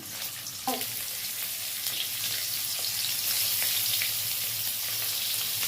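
Steamed-egg mixture pieces frying in hot oil, a dense, steady crackling sizzle after a brief knock as a piece drops in, close and continuous with no talking.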